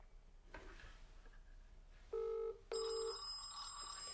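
An incoming call rings on a G-Mee Connect Pro smartphone for older users, two loud electronic ring bursts separated by a short gap, clear over quiet room tone.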